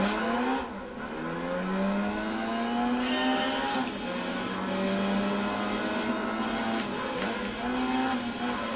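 Race car in Gran Turismo 3 accelerating hard through the gears, engine whine climbing repeatedly with each shift, steady and close, no talk over it.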